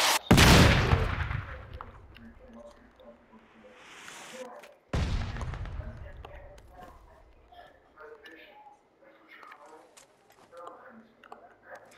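Incoming mortar fire in PUBG: Battlegrounds, with two heavy close booms a few seconds apart, each trailing off into rumble, while players talk over the blasts.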